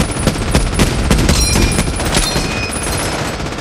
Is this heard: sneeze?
no